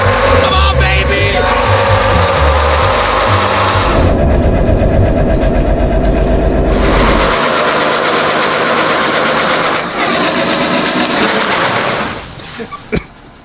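Dually Ford Ranger with a swapped-in Cummins engine revving hard while trying to pull, a loud, sustained, strained diesel roar that wavers in pitch and then drops off to a lower idle near the end.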